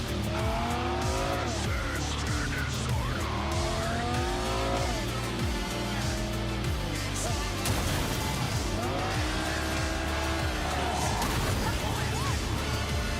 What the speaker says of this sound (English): These cars are pretty durable. I mean, I've crashed into pretty much everything and the car's still moving.